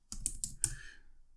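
Four quick keystrokes on a computer keyboard, close and clear, with a short fading tail and no voice.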